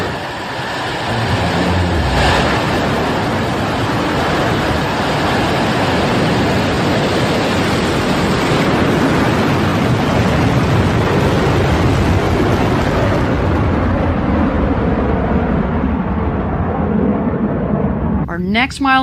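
The Blue Origin New Shepard rocket engine roars during launch as a loud, steady broadband rumble lasting many seconds before easing off at the end.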